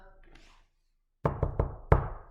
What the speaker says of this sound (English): rat-a-tat-tat at the kitchen door